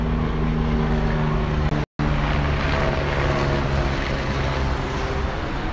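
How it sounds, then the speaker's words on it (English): A helicopter drones loudly and steadily overhead, with a throbbing rotor hum and a momentary cut partway through. "Helicopter."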